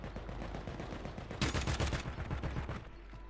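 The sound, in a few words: gunfire in Call of Duty Warzone video game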